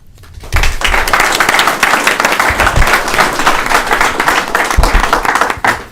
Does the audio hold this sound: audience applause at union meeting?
yes